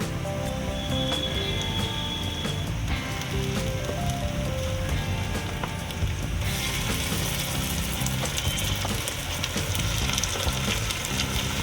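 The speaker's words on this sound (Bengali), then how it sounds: "এবার পেঁয়াজ বাটা একটু ভালো করে আমি ভাজবো" Onion paste frying in oil in a pan for papaya chicken, a steady close sizzle with scraping and clatter from stirring running throughout.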